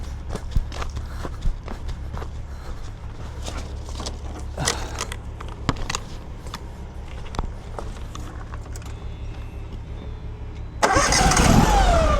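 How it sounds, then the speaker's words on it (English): A car approaches along a narrow rural road in West Virginia, its engine rising loud and close over a steady low rumble near the end, after scattered footsteps and handling knocks. "Oh, there's a car coming"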